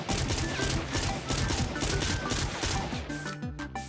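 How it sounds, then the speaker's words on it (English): The Ranger burst assault rifle fires in Fortnite, a dense run of rapid, loud gunshots in quick bursts that continue almost without pause to the end. "here I'll just give you an example of the fire rate and the spread on the weapon"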